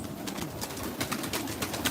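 Pigeons cooing on a rooftop, a steady busy chorus of soft calls and rustling across the whole stretch, fairly close and continuous.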